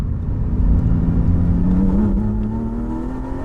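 A Porsche 718 Spyder engine pulls hard and close, its rising tone climbing steadily as the car accelerates along a twisty road, with no talk over it.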